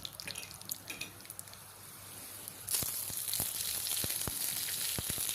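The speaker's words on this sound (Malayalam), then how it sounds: "അപ്പോൾ പാനൊക്കെ ചൂടായി കടുകിട്ട് കൊടുക്കുകയാണ്. 2 വറ്റൽമുളക് മുറിച്ചിട്ടിട്ടുണ്ട്." Mustard seeds and dried red chillies hit hot oil in a pan and set off a steady, bright sizzle. Sharp pops and crackles from the seeds burst through it, starting a few seconds in after a quieter stretch, with no voices.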